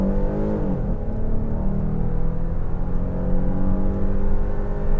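A 2025 Kia Carnival SX-Prestige minivan accelerates at about half throttle, its engine rumbling steadily from inside the cabin with a smooth, rising drone and no talk.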